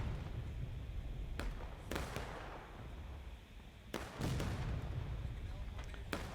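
Civil War–era artillery cannons fire in a multiplayer video game, several heavy booms spaced unevenly over a few seconds, one pair in quick succession, set against low battlefield rumble and faint background voices.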